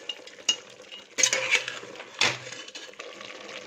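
A spoon stirs onion-tomato paste into masala in a pot for a village-style country chicken curry, producing a few soft scrapes and clinks of metal against the pot with faint sizzling in between, no speech.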